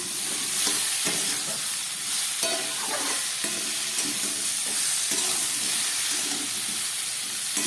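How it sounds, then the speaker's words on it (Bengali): Fried cauliflower and potato tossed into sautéing vegetables in a hot pan, giving a steady close hiss and sizzle with repeated stirring scrapes throughout, no voices. "এবার আমি দিয়ে দিচ্ছি ভেজে রাখা ফুলকপি আর আলু, বেগুন বাদ দিয়ে সমস্ত সবজি আমি দিয়ে দিলাম।"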